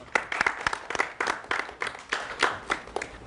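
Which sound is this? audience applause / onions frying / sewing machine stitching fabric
audience applause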